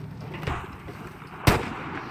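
Gunshots in the Battlefield V open beta: one sharp, loud crack lands mid-clip. Fainter shots sit before it over a steady game background.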